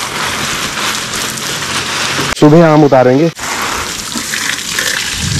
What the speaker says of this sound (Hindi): सो गाइस पौधों में भी पानी देना कंपलसरी है क्योंकि गर्मी बहुत ज्यादा बढ़ गई है।